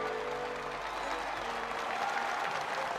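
Sustained applause from an appreciative crowd greeting the presentation to the Welsh champion at the 1993 World's Strongest Man contest in Orange, a steady dense clapping wash lasting throughout.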